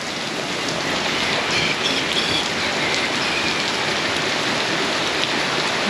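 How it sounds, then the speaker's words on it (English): Steady rain falls in a backyard, a continuous dense hiss of drops striking surfaces, close and fairly loud, with no talking. "let's just hope it's not going to be raining every single day."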